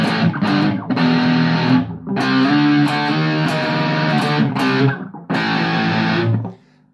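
Heavily distorted electric guitar through a Joyo DC-15 amp with reverb up plays chunky metal chords in several bursts with brief gaps, ending on a sustained note that fades out.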